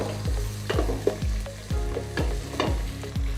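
Garlic, green chili and rough-cut ginger frying in a pan while being stirred, with a steady sizzle and about eight rhythmic spoon scrapes, each a sharp clack, close up and without any talk.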